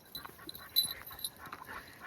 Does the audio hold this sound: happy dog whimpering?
yes